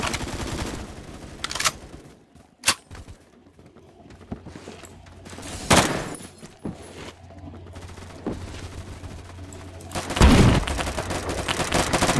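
Gunfire in the Phantom Forces shooter game: scattered sharp shots and short bursts amid quieter stretches, with a loud booming cluster near the end, no talking heard.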